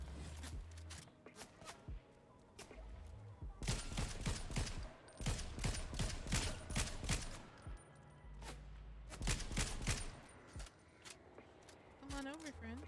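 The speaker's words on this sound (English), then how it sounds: "Who else is shooting at me?" Bursts of video game gunfire crack out in clustered volleys around the middle and end, with a person talking over the shots throughout.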